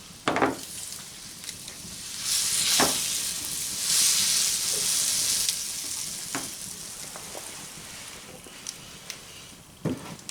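Brown gravy sizzles steadily in a hot stamped steel fry pan during a squirrel recipe, a loud bright frying hiss with a few sharp utensil scrapes and clinks scattered through, no talking.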